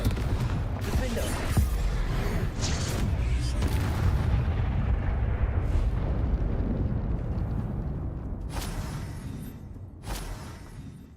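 Repeated Confringo blasting-spell explosions in the Hogwarts Legacy game hit in a rapid burst of loud booms and crackles, then thin out to a couple of sharp, separate blasts near the end.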